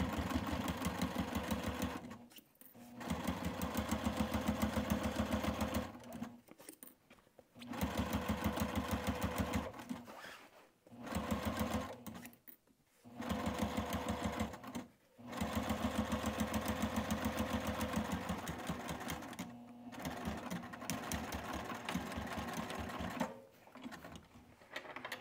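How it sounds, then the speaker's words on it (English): A sewing machine stitches back over a previous line along an apron edge, whirring in steady runs broken by several brief stops, close and fairly quiet. "I'm going right back over my previous line of stitching right here"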